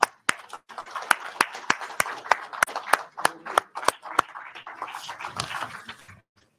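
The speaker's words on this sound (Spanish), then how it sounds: "Todos frecuentan los medios, todos conocen estos temas muy bien y se merecen una introducción mucho más larga y un aplauso." Audience clapping at a constitutional symposium, a few sharp, regularly spaced claps from a small group that fade into scattered softer applause, with no talk.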